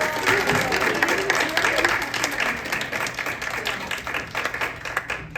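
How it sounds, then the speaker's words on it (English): Seminar audience applauding a guest speaker on senior rightsizing, with steady, dense clapping from a modest crowd and some chatter mixed in, tapering slightly toward the end. "Let's give Karen a round of applause."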